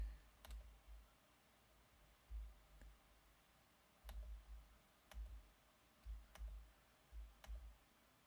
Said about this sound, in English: Oh, you can hear the keyboard really well.